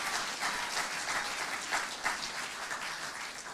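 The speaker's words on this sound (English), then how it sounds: "Let's give him a round of applause." A Sunday church congregation gives the preacher a round of applause, a continuous, moderately loud crowd clapping with slight swells, heard from a little distance.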